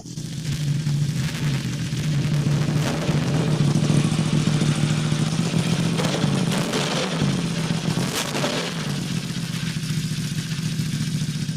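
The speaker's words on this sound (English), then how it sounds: "Guys, we're at 2000 RPM, the bike is cold, 2000 RPM" A cold Yamaha R1M superbike fitted with a titanium exhaust idles at around 2000 RPM, a steady loud throaty rumble with a low burble that swells slightly and clatters briefly, heard close up with no speech.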